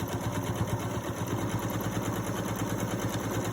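A sewing machine stitches quilt binding, running at a fast, even whir with a rapid steady needle rhythm, close and continuous without pause.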